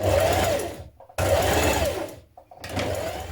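A sewing machine stitches a seam down the side of a small fabric loop for a trapeze dress, running in three short close bursts separated by brief pauses.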